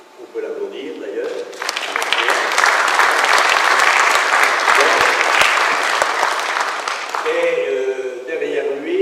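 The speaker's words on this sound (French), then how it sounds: "On peut l'applaudir d'ailleurs." Audience applause at a ceremony honouring a guest who lent display panels: a dense, steady wash of clapping swells in after a voice, holds for several seconds, then fades as speech resumes.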